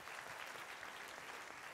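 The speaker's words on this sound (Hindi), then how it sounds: "कामरान अकबर खान के लिए तालियां बजाइए" Studio audience applause on a television talk show, a dense, even wash of many hands clapping continuously at a moderate, slightly distant level.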